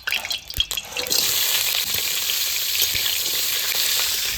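Crabs drop into hot oil in a wok and set off a loud, steady sizzle. A few clattering stirs come first, then a dense frying hiss carries on without pause.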